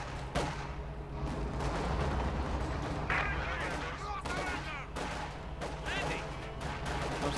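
Machine gun and artillery fire in a Company of Heroes 2 battle, a dense, continuous rumble of shots and blasts running under ongoing commentary.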